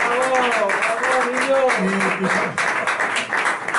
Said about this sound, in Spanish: yo creo que os debería dar un aplauso a todos vosotros